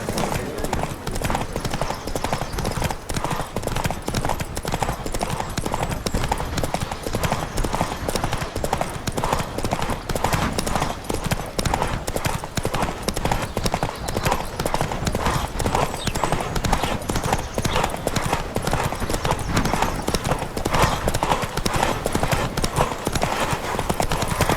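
Steady, rapid hoofbeats of a galloping horse pound on without pause, loud and close, with occasional voices calling out over the rhythm, during a horse race in the video game The Witcher 3.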